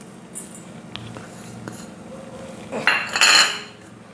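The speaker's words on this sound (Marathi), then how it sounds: "आता इथे आपण सेंधा नमक टाकून घेणार आहोत।" Spoonfuls of rock salt go into steamed, dried Indian gooseberries for a tangy pickle, with a few light metal clinks and then a louder, brighter burst of scraping and rattling near the end, close and free of speech.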